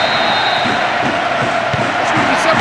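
A video-game football crowd in a stadium roars as a steady, loud wash of massed voices, with a sustained cheering swell and no breaks.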